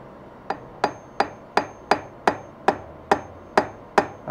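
A hammer taps a part in to set it straight: about ten sharp, evenly spaced metallic taps, close and clear, with no talk.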